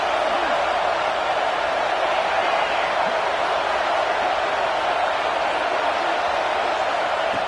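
Steady, dense crowd roar fills a high school football game, a loud continuous wash of voices and cheering with no breaks, sustained evenly throughout.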